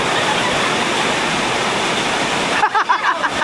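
Rushing river water swollen by flooding after heavy rain, a loud, dense, continuous roar that cuts off abruptly near the end into quieter, uneven splashing and gurgling.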